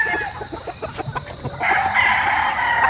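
Chickens on a farm, hens and pullets among them: rapid close clucking gives way to a loud rooster crow, with other fowl calling faintly behind.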